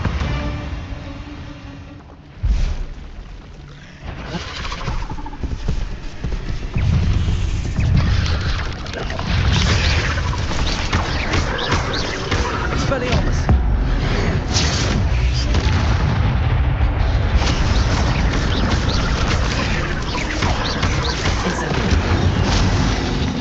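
An Incendio fire spell cast in a Hogwarts video game, a loud burst followed by sustained roaring blasts and booming impacts, dense and continuous like explosions and crackling flames filling the scene.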